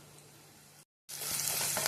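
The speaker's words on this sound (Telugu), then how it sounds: "కొంచెం కరివేపాకు వేసుకోవాలి" Curry leaves sizzling in hot oil over a browned tempering, a steady sizzle that cuts out briefly, then returns louder and brighter.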